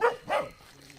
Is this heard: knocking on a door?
no